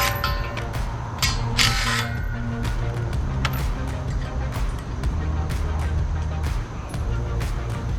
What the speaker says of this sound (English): We gotta get the 3/4 inch socket, pull this post down.